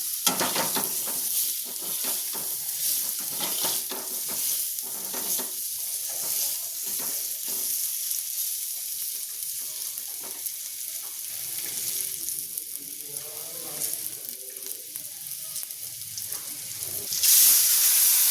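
Ground spice paste mixed with water sautés in hot oil for a banana flower curry, a continuous close hiss and sizzle with brief stirring clatter running throughout, ending in a louder burst of steam.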